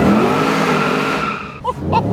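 A 680hp HSV VF GTS engine revving and pulling hard under acceleration on a bridge, a loud, steady, rising drone heard from close by.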